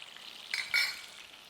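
Chapli kebabs fry in a pan with a steady, fairly quiet sizzle, swelling into two louder crackling bursts midway before settling back to a soft hiss.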